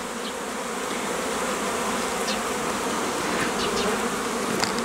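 A dense swarm of honey bees buzzes steadily over open hive frames in an apiary, a loud continuous drone with no talking.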